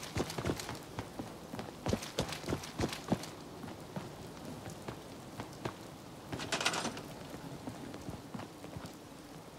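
Rain falls in Fallout 4 as a quiet, steady patter and hiss. Scattered thuds that sound like footsteps on wet ground cluster early on, with a brief louder splash of noise later.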